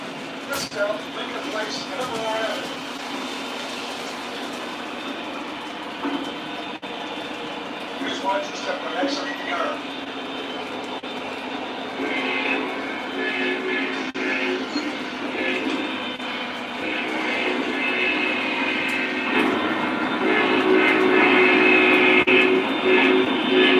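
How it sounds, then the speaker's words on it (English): A running MTH model train with a tank car and two sound cars gives a steady rumble and clatter, with rail-like mechanical noise that grows louder toward the end while people talk over it. "Now we can get this train moving."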